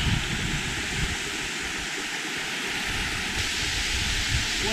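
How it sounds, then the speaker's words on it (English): Bonita Falls waterfall in California, a loud, steady broadband roar of falling water heard up close, continuous and unbroken with no voices. "We made it to the waterfall."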